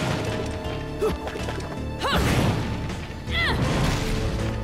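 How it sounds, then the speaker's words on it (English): Furniture smashed in the video game Bayonetta: repeated loud crashing impacts with splintering debris, two big smashes a second or so apart over a steady background of game music and noise. "just smashing up all the furniture"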